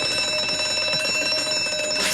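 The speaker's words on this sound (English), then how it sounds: "It's a fire alarm. Come on, everybody out!" A fire alarm in a newspaper office, a loud, continuous electric bell ringing steadily with no pause.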